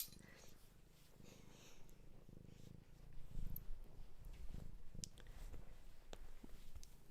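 A big cat purrs close by in a low, steady, rumbling flutter that swells and eases in waves, with faint clicks and rustles mixed in.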